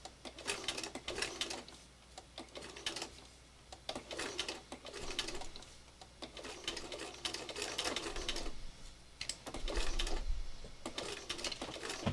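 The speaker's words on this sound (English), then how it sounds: "Now I think we're done with the sewing machine." A sewing machine stitches a smiling mouth onto a stuffed toy cat, running in bursts of steady rapid mechanical chatter with short pauses between runs, close and alone.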